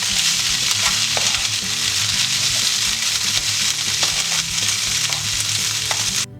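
Seitan sizzles steadily in a hot pan while it is stirred constantly, with a dense, continuous frying hiss broken by frequent scraping and clinking strokes, close and loud with no talking.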